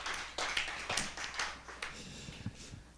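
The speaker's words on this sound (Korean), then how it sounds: "박수!" A church congregation claps during Sunday afternoon service announcements, a dense, steady patter of many hands lasting a few seconds with no talking over it.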